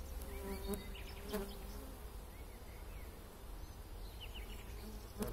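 Honey bees buzz around the beehives of an apiary. The drone is continuous and fairly quiet, with individual bees passing close by now and then.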